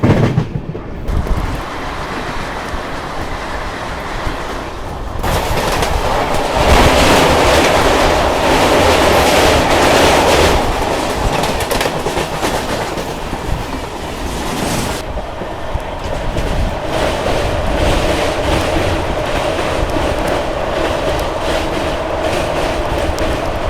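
A Pinakini superfast train with an LHB rake runs on the Vijayawada to Chennai line, heard from inside as a loud, continuous rumble and rattle of the wheels on the track that rises and falls over time.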